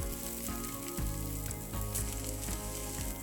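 Curry leaves, onion and carrot hitting hot oil in a pan for a chundal tea snack, a loud continuous sizzle with a few bursts as more pieces go in, no talking.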